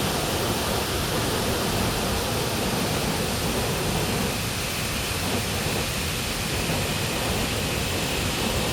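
A waterfall at a sacred spring, a steady broadband roar of falling water that holds constant and loud throughout, with no voices.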